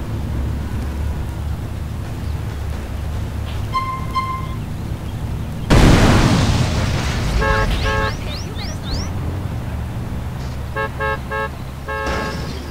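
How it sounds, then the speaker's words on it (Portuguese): An explosion in GTA San Andreas, a sudden loud blast that decays over a few seconds within steady game ambience, with vehicle horns and alarm-like beeps sounding before and after it. "Efeito de explosão aqui de novo, ó."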